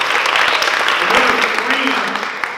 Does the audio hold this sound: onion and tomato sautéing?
no